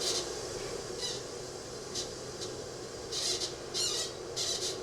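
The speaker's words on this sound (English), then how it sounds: "you can hear their water-saturated barks rubbing together" Creaking, squeaking rubs of wet, water-saturated tree bark rubbing together in wind recur irregularly over steady wind-like noise, a few short strained squeals, the last ones louder and closer together.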